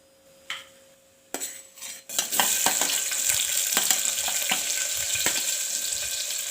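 Cumin and mustard seeds hit hot oil in a pan for a healthy vegetable khichdi, sparking a few sharp crackles and pops before a loud, continuous sizzle takes over and holds steady.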